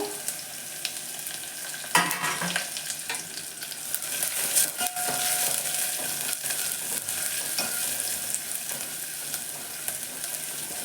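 Crushed garlic and curry leaves fry in a hot tempering for rasam, with a loud, continuous sizzle and a sharp crackle near the start, followed by occasional stirring scrapes, and no talking.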